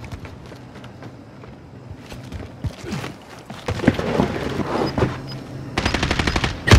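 Video game gunfire in Call of Duty Warzone, scattered shots building into rapid bursts of automatic fire that grow louder and denser toward the end, with a voice briefly heard.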